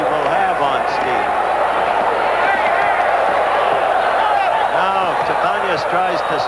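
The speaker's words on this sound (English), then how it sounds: "You hear the crowd getting into it." A boxing arena crowd at the 1984 Los Angeles Olympics roars and cheers in a steady, loud wash, with a commentator talking over it throughout.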